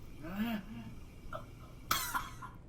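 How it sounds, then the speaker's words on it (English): A sharp, close cough bursts out after some brief vocal sounds, followed by a short raspy tail. "Why do I cough like that?"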